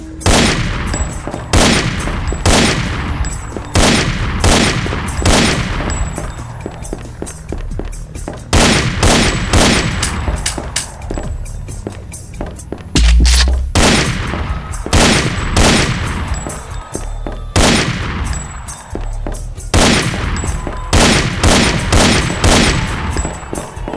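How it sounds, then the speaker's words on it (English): A handgun fires again and again at targets in Heavy Metal FAKK 2, making loud, close, rapid reports in a near-continuous rhythm with brief pauses, lasting about twenty-four seconds. "Shoot all the targets with your handgun to continue."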